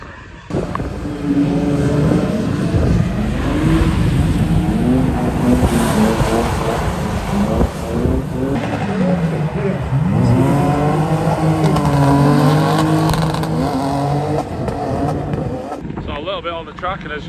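Drift cars circling a soaked race track at night, engines revving and rising and falling in pitch as they pass, loud and continuous with heavy wind noise on the microphone.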